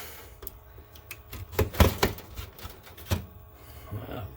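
A blade cuts through plastic trim while converting the AC controls on an NA to NB Mazda Miata, giving irregular scraping and snapping cuts, near and moderately loud, with a few sharper cracks in the middle.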